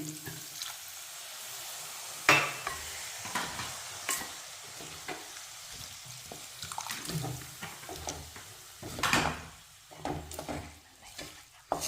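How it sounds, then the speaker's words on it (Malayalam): Ginger mango pickle with vinegar and asafoetida being stirred and scooped in a pan, giving a steady low sizzle broken by uneven scraping and knocking strokes of the spoon, close up with no talk. "നന്നായിട്ട് ഇളക്കി പാത്രത്തിൽ കോരണം"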